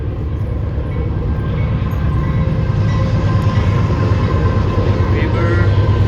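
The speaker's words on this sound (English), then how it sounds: "there's a train right there" A train rumbles past near a nature trail with a bike path, a loud, steady, low roar of wheels and cars that fills the whole stretch without letup, close by and continuous.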